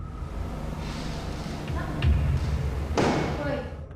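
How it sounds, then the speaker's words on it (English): Inside an old social hall, a faint thud is followed about a second later by a louder bang close by, over a quiet hum of room noise. "It sounds to me like a door creaks and then something bangs loudly nearby."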